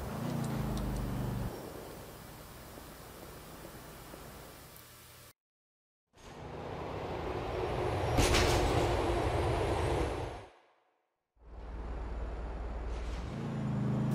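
A train rumbles along the tracks in the video game GTA IV, a steady roaring rattle with a loud clattering peak midway, cut by two brief silent gaps.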